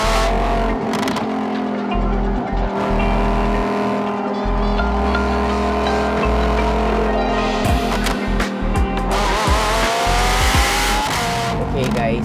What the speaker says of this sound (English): after the exhaust swap, I can honestly tell you that this sounds way louder and way better